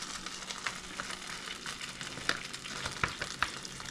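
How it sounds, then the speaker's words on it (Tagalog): Mushrooms sizzle in hot canola oil in a pan, a continuous close frying hiss broken by a few sharper pops and spits, with no voices. "Pero pag nilagyan ko yan ng mantika, magkakaroon ng malakas na sizzling sound."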